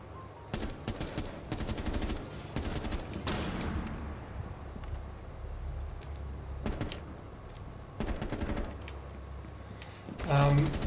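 Short bursts of rifle fire with a muzzle brake in Rainbow Six Siege, tapped in quick clusters of rapid shots separated by pauses, with a low ambient game hum underneath and no talk.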